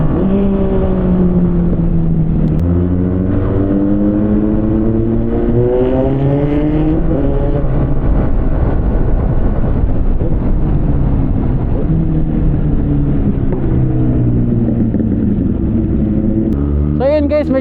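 A Yamaha NMAX scooter at speed on the road, heard as a continuous engine drone whose pitch climbs and falls with acceleration, under wind noise and loud throughout.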